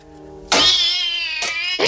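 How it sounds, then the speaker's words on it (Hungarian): A cat gives loud, drawn-out meows close by, one long wailing cry followed by another starting, clear and alone without speech. "De hisz ez egy macska."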